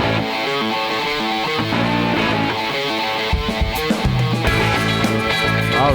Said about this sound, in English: So let me go ahead and pull up the weather music.